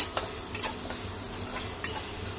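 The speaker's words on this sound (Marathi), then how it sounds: "आता हलवून घेऊया चांगला" A spoon stirs potato and spice samosa filling in a hot pan, giving a steady soft sizzle with a few close scraping clicks against the pan.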